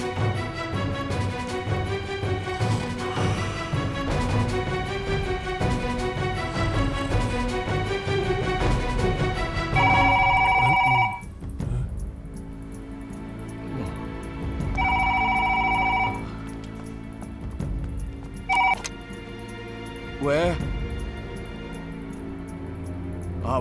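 A telephone rings repeatedly in an indoor drama scene, its electronic ring recurring in short bursts over background music and room noise.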